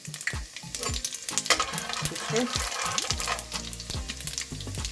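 Cumin seeds sizzle and crackle in hot oil in a saucepan, a busy, close frying hiss with quick pops, heard alongside background music.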